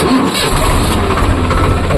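A tractor engine turns over and settles into a loud, rough idle, close by and filling the whole moment.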